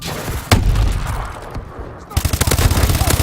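A fast-firing gun in a video game lets off rapid bursts, a sharp loud opening shot followed by a rumbling stretch, then a quick rhythmic volley of close, punchy shots.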